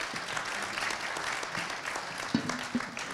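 Applause from an audience at a French-language forum on supporting African diaspora talent, a steady wash of clapping filling the room at moderate volume for a few seconds, with a couple of louder isolated claps near the end.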